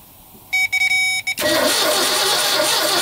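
A starter cranks the engine of an abandoned 1969 Ford F100 pickup, loud and close, steady churning that fills most of the short span after a few brief beeping tones.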